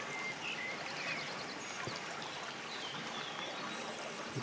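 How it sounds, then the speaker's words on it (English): A crystal clear stream flows steadily outdoors, a soft continuous trickle and gurgle of water at moderate distance, with no talk over it. "The soothing sound of water."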